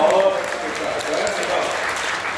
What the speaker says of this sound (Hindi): आप एक बार तालियां हो जाए